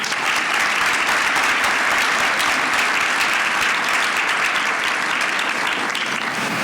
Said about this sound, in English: so give him a round of applause and welcome Tim.